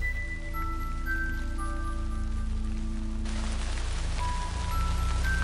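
Steady rain falls through a forest in a Japanese RPG Maker-style horror game, a constant even hiss with soft sustained background music tones layered over it.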